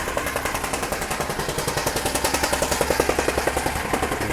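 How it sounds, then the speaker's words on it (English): Jackhammer pounding at street construction, a steady rapid rhythmic hammering close by and loud throughout, with no talk over it. "Just my luck, they doing construction on the street, like jackhammering."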